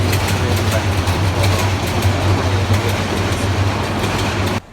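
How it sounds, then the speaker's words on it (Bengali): Train rolling past near a mosque in Tejgaon, Dhaka, heading toward Banani, a steady loud low rumble with rhythmic wheel clatter that runs continuously and cuts off abruptly at the end. "ট্রেন তেজগাঁও থেকে বনানির দিকে যাচ্ছে"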